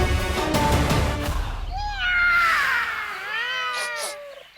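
Cats meowing, a couple of drawn-out wavering meows and yowls that bend up and down in pitch, following a stretch of louder mixed background noise and fading near the end.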